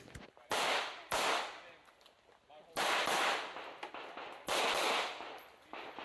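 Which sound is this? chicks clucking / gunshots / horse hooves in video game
gunshots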